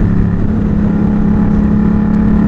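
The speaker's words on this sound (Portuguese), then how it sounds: "eu piloto minha Yamaha MT-07, uma moto aí de 2 cilindros" A Yamaha MT-07 two-cylinder motorcycle being ridden at speed along the BR-101 highway toward the coast, its engine a loud, steady, close drone with an even tone and no talking over it.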